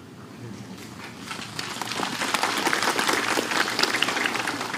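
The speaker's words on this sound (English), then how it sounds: "Why are you clapping?" Dense applause from a crowd of many people, building slightly louder and steadier over a few seconds with no talk over it.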